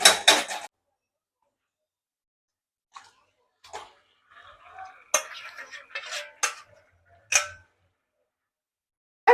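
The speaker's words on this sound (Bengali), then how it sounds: "এবার আমি চিকেনটা তুলে দেবো।" Chicken tipped into a pan of fried onion paste and stirred, giving a few sharp metallic clinks and scrapes separated by quiet gaps.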